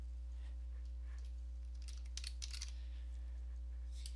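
Keys on a computer keyboard are tapped at a command prompt in a quick, light burst of clicks over a steady low electrical hum, with a few faint taps before and after.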